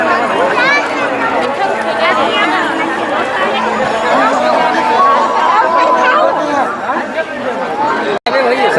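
A dense crowd at the Sahaspur village fair (madai) in Bemetara district produces continuous loud chatter, many overlapping voices forming a steady babble close around the listener with no pauses.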